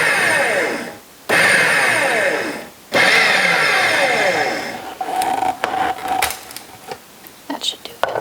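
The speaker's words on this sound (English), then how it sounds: "Now we're just going to pulse it until we get pea-sized" A food processor pulses butter with flour for pie crust, loud whirring bursts separated by short pauses, then lighter clattering taps and brief whirs toward the end, close up and without talking.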